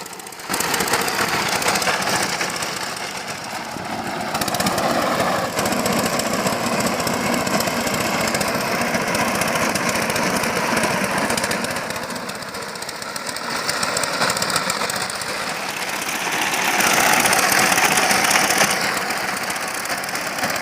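A power tiller's engine chugs steadily while it works the soil, a loud, close, continuous mechanical rattle with mild swells in intensity and no voices.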